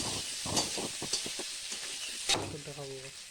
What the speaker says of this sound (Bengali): এবার দিয়ে দিব আলুগুলো, সেদ্ধ করা আলুগুলো দিয়ে দিলাম। এটাকে এবার ভাজবো